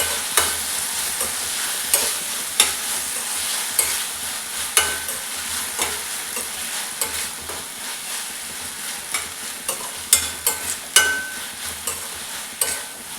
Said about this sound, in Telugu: నేను ఫ్రై చేస్తున్నాను.